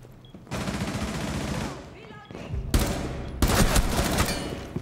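Bursts of rapid automatic gunfire from a Rainbow Six Siege match, loud sustained volleys separated by short pauses, with a voice speaking in between.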